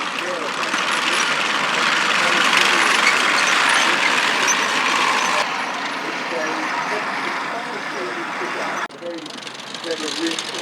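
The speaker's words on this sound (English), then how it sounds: "Radial engine in the back, that's why you can hear that engine there." A WWII tank's rear-mounted radial engine gives a deep, steady rumble throughout, loud and close, at an outdoor armour display, with a voice talking over it.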